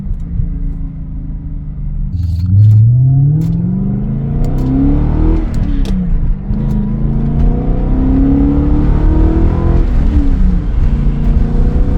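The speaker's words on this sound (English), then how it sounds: "Man, does it sound good too. Like I said, this exhaust is really, really nice." A BMW M5 engine with a raspy, open muffler-delete exhaust revs and accelerates, pitch climbing through gears, rumbling close and continuous with no talking.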